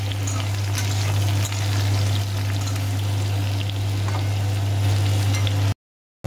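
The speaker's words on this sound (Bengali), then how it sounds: "হালকা করে একটু এঁচড়টা ভেজে নেব।" Young jackfruit fries in a pan with a steady, dense crackling sizzle over a low constant hum, continuing without talk before cutting off abruptly.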